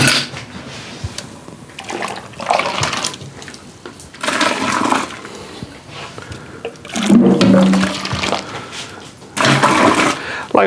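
Water poured into a whiskey mash for an American single malt, a rushing, splashing pour in loud bursts with quieter gaps between, no talking over it.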